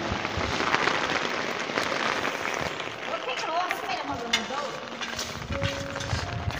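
Heavy rain pours steadily on a surface outside during a wet spell at wheat harvest time, a dense continuous hiss with scattered drops, and a voice speaks faintly underneath.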